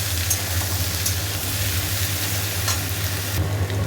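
Potatoes fry in oil with black cumin seeds and chilli in a kadai, giving a loud, continuous close sizzle with a few sharp stirring scrapes on top.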